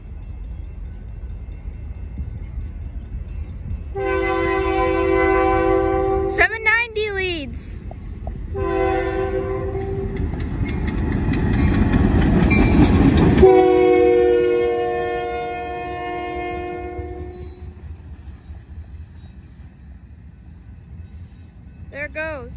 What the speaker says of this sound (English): here comes a Union Pacific local train going southbound